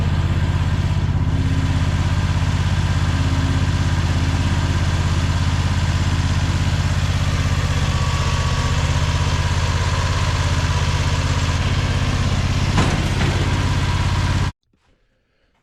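A Fland FL45 wheel loader's engine idles steadily and loud at close range, a continuous low rumble with a throttle that is not working properly, running without pause before cutting off abruptly near the end.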